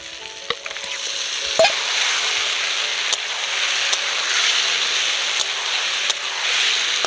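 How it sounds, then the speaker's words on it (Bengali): Marinated chicken pieces hitting a pan of fried onion, ginger and garlic, bursting into a sudden loud sizzle that keeps hissing evenly, with a few light clicks of stirring. "এবার আমি ম্যারিনেট করে রাখা মাংসটা দিয়ে দেব।"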